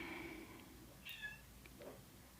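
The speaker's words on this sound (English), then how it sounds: "she's lost it. That's why she's meowing" A cat meowing indoors, a couple of short, soft meows separated by pauses, fairly faint against a quiet room.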